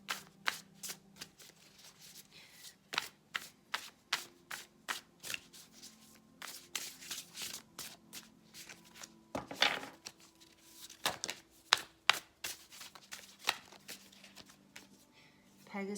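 An oracle card deck is shuffled by hand in a steady patter of close, papery flicks and riffles, with brief pauses and a few louder slaps.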